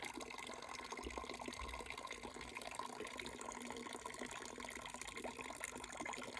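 Juice runs from pressed fruit in a faint, steady liquid trickle with a soft splashing texture that continues evenly throughout, quiet and with no talking.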